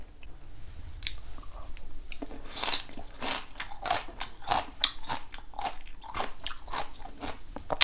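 Someone bites and chews soy sauce marinated crab (ganjang gejang) up close, with repeated crisp crunches and cracks of shell in an irregular rhythm throughout.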